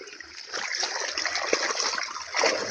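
Water splashes and gushes steadily while a flooded canal is drained, a close, continuous rushing and spattering that swells slightly toward the end.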